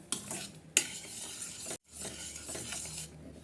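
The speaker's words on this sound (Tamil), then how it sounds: "நம்ம கைவிடாமல் கிளறிட்டே இருக்கணும்" Beetroot halwa stirred steadily in a cooking pan, a spoon scraping and clinking against the metal with a soft sizzle, one sharp clink partway through and a brief pause before the stirring resumes.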